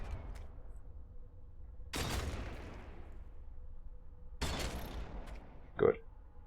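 Gunfire in the Deathwatch: Tyranid Invasion video game: two loud broadband bursts of shots, each decaying over about a second, then a short sharp blip, over a low background hum.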